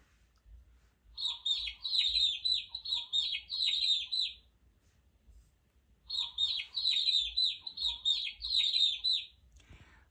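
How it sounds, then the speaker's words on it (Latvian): Chicks cheep softly in two bursts of rapid, high chirps separated by a brief quiet pause, close and clear against near silence. "Cālīši klusi čiepst, čip, čip, čip, čip, čip."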